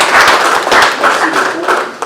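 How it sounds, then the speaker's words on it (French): Audience members at a national youth forum in Kinshasa clap for a secretary general standing up, a short burst of loud, close, uneven clapping under some voice. "vous pouvez l'applaudir"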